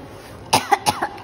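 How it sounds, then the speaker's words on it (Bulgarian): A person in a gym coughs three or four times in a quick rough burst, close and fairly loud against a quiet room. "ти кашляш"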